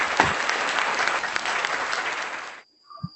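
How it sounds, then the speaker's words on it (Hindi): An audience at a kavi sammelan poetry gathering applauds, sustained crowd clapping at moderate level that stops abruptly, followed by brief faint tones and a thump. "जोरदार ताली के साथ।"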